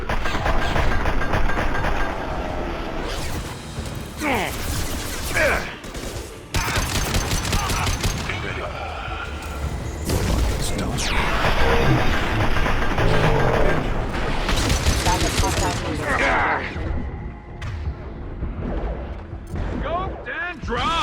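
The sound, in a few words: gunfire in the video game Mass Effect 2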